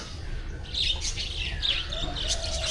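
Various birds, including African species, chirp and call in an island resort park, with bright repeated tweets and short calls over a steady outdoor background.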